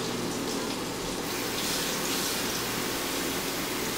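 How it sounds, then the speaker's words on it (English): Water pours continuously into a cooking pan, a steady gushing splash that stays fairly constant and moderately faint, with no speech. "I'm going to add 3 cups of water in here."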